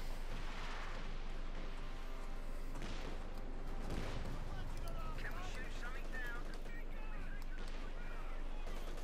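An anti-tank gun fires on a Panther tank in a Company of Heroes 2 battle, with cannon booms and scattered gunfire and explosions throughout, mixed under a steady background hum and a voice talking.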